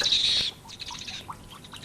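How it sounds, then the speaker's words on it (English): A shrill owl shriek rings out loud and high for about half a second as a sound effect in a 1970 television production of Macbeth, then gives way to quieter scattered chirps and rustle. "was the owl that shrieked."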